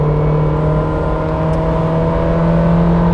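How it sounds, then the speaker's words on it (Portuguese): Honda Fit LX 2019 with a CVT holding its engine near 6000 RPM while climbing a steep hill, a loud, steady droning whine with constant pitch throughout, close and continuous with no talk. "o CVT mostra um certo desconforto em relação à presença de ruído"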